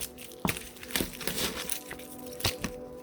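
Stiff laminated cards rustle and crinkle as they're shuffled, giving a few sharp flicks and slaps close by with no talking.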